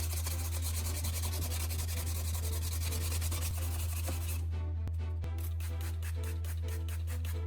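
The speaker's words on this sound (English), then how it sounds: "Continue sanding, cleaning, and finishing it just like the outside." Continuous rubbing of sandpaper over a plastic repair, steady close scraping strokes with a rhythmic pulse that turns brisker in the second half, all over a constant low hum.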